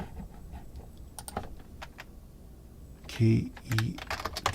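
Keys on a computer keyboard clatter as commands are typed for Espressif IDF tools, scattered quick taps near the mic, with a short burst of breathy voice sounds midway.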